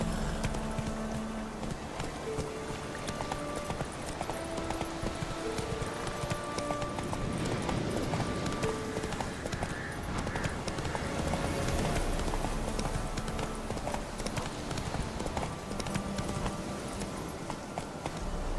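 Horse hooves gallop in steady clip-clop rhythm through The Witcher 3 game world, continuous and fairly loud over a dense background of wind, music and ambient game sound, with a brief whinny amid the hoofbeats.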